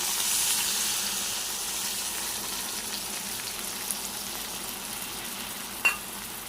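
Poppy seed paste frying in a pan with pointed gourd, a soft, even sizzle that holds steady throughout, capped by a single sharp clink near the end.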